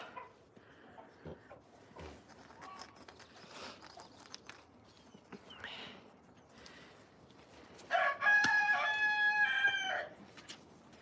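Chickens cluck softly through the first part before a loud rooster crows near the end, standing out clearly over the quieter farmyard background.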